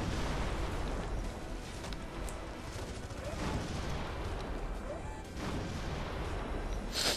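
Rocket explosions and gunfire in the Red Faction: Guerrilla video game, a dense, continuous roar of blasts and shots with a few sharper bursts, loud throughout.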